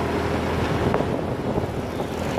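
Strong wind buffets the microphone on a rural road drive, a constant loud broadband roar with low rumbling gusts and no talking throughout.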